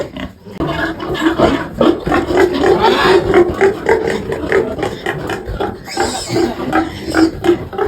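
Piglets squeal and grunt nonstop at close range, a loud and busy chorus of overlapping high cries with rough snorts running through it.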